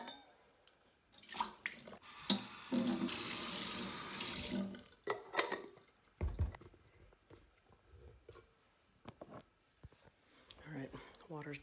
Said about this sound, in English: I need to fill up my water bottle